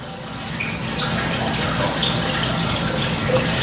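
Water runs steadily into a home fish tank, a constant close rushing and trickling that stays even throughout, with no talk.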